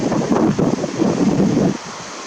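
Sea waves and wind at the shore, a broad rushing roar with gusty wind buffeting the microphone, loud and continuous before easing off near the end.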